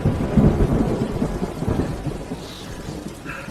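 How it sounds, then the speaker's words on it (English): Heavy rain pours down with deep thunder rumbling loudly at first and then fading into a steady rain hiss, with no voices. "President Chi, the rain's too heavy."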